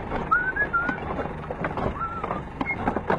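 A man whistles Eye of the Tiger after a high-speed car crash, with thin melodic whistled phrases weaving over clattering, rumbling background noise and a voice.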